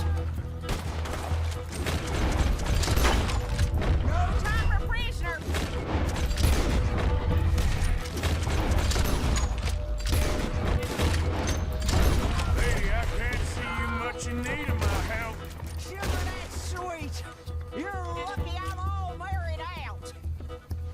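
Enemy gunfire in the video game Red Dead Redemption 2: repeated sharp shots and bursts crackle throughout a loud, busy firefight, with someone talking over the action.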